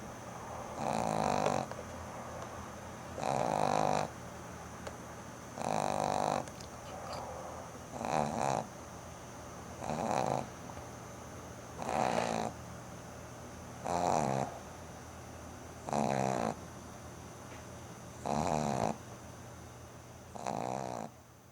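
A dog wearing pajamas snores in a slow, steady rhythm, about ten loud rasping snorts spaced roughly two seconds apart, close by with a faint hum between breaths.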